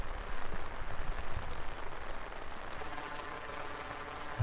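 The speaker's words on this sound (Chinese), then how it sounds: "感觉雨好像越下越大了" Rain falling on a city street near a children's playground, a dense, steady patter of drops spread evenly through the whole stretch, continuous and moderately loud with no voices.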